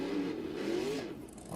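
A Monster Jam monster truck engine revs in the BeamNG video game arena, a brief, steady mid-pitched whir rising slightly in pitch, heard alone at moderate level.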